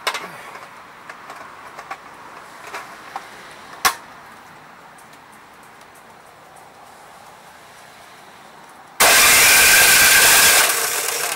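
A Craftsman 179cc PowerMore snow blower engine with a surging fault sits quiet with scattered clicks and a sharp knock. It then suddenly catches and runs loud and close, roaring steadily for the last couple of seconds.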